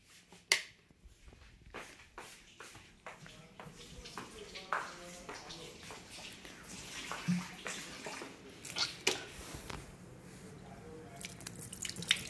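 Tap water runs and splashes while hands are washed at a home sink, a steady watery wash with drips and small splashes, with people talking over it.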